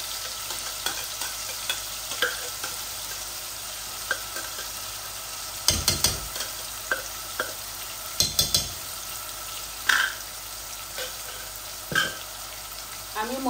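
Onions frying in a pan while being stirred, a steady close sizzle punctuated by intermittent spatula scrapes and knocks against the pan, a few louder clanks spaced through, no speech.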